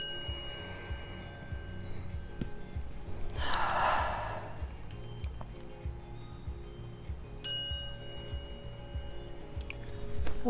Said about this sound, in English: So first, breathe.